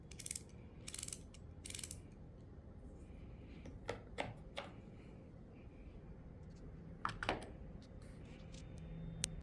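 A compact ratchet wrench clicking in short bursts, quick dry rattling pawl clicks in separate groups, close and fairly quiet, with no talking.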